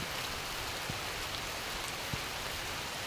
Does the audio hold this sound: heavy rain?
yes